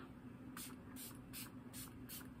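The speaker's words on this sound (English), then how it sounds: "this, like, BFF hydrating spray" A hydrating face mist bottle sprays in four short, breathy bursts at a steady, even pace, close and clear over a low constant hum in a quiet room.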